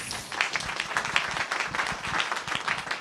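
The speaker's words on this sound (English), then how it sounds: "let's give our keynotes another round of applause." A conference audience applauds its keynote speakers with dense, sustained clapping from many hands, steady and fairly near, with no talking.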